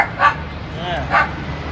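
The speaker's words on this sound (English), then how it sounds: "Don't mind the dogs. They could be a little loud sometimes" Dogs barking nearby in a home garage where a Honda Civic Si is being worked on, two short barks about a second apart over background noise.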